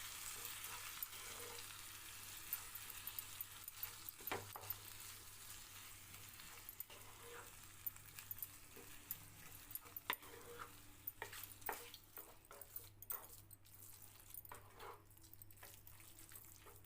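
Kaara pongal mixture of rice, dal and water being stirred in a pan, with soft scraping and liquid sloshing sounds repeating steadily over a low background hum, no talking.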